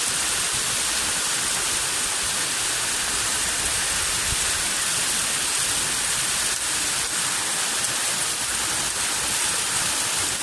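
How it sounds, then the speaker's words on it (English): Heavy rain falls outdoors in a steady, dense hiss that stays even and unbroken throughout, with no voices. "It is really raining."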